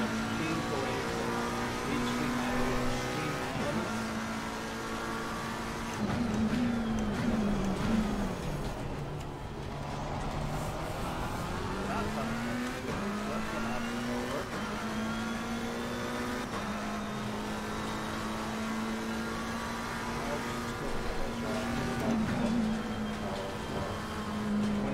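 Race car engine on a flying lap at COTA, a continuous high buzzing drone rising and falling with gear shifts and braking, loud and steady throughout, with occasional talk underneath.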